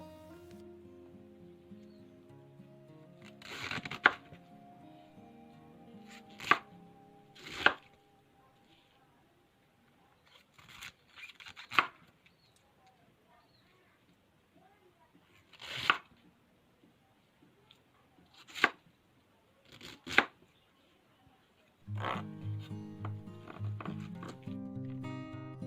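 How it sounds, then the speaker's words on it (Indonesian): A knife chops cabbage coarsely into wide pieces on a cutting board, making sharp, separate thuds in small clusters with quiet gaps between them, while background music plays at the start and end. "Sayur kol akan dipotong sedikit kasar atau lebar."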